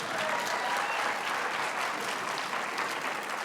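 Graduation ceremony audience breaking into a dense, even round of applause, loud and continuous for a few seconds with no voices over it.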